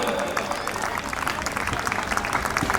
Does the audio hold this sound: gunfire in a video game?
no